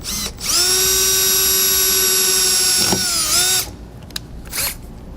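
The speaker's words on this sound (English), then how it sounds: "We're going to drill a pilot hole first." Power drill boring a small pilot hole into a 2014 Chevrolet's metal door for a towing mirror mount, a loud high steady whine for about three seconds, then stopping with a few brief clicks.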